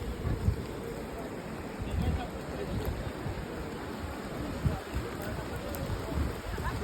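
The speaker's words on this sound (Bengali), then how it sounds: "আর এখানে অনেক বৃষ্টিও হচ্ছে।" Rain falls steadily over the Dulung river in Jhargram with waves flowing past, a dense continuous hiss and wash at moderate level, with voices faintly mixed in.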